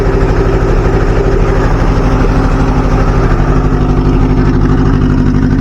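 A 1977 Chevy Luv pickup engine with no exhaust fitted, running loud and close with a raw, rapid pulsing roar that holds steady throughout.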